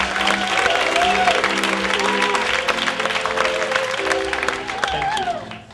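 A live storytelling-stage audience claps steadily and loudly for storyteller Moran Cerf, a dense wash of applause and crowd noise that holds for several seconds before thinning slightly at the end.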